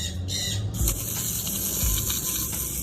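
Water spray rinsing paint stripper off a car intake manifold, a steady broadband hiss running throughout with a couple of low thumps, close and fairly loud.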